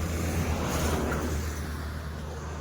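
A car passes on a roadside stretch near Jwala Devi temple, a steady engine and tyre rumble rising slightly then easing, with constant low traffic noise and no talk.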